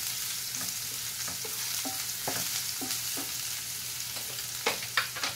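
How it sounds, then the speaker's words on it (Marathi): Onion frying in hot oil in a kadhai, a steady close hiss of sizzling with a few light scrapes and taps of a stirring spoon, quiet and continuous with no talk. "त्याच्यामध्ये आपण हा कांदा थोडासा घालायचा आहे आणि तो भाजून घ्यायचा आहे।"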